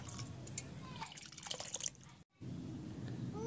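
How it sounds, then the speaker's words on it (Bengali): Faint, soft drips of lemon juice squeezed from a freshly cut lemon for homemade paneer, falling as a few scattered, quiet drops in a hushed kitchen. "এদিকে আমি লেবু কেটে লেবুর রস বের করে নিচ্ছি।"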